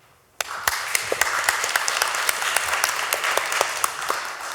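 After a quiet moment, sudden applause breaks out from the audience and panel members at a criminal justice reform committee hearing, with distinct sharp claps over a steady, moderately loud clatter.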